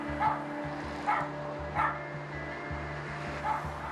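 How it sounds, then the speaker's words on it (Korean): A dog left alone inside an empty, locked shop barks four times at a steady, spaced-out rhythm, moderately loud over a constant low hum. "인기척을 느끼고 자리에서 일어나 짖기 시작하는 녀석."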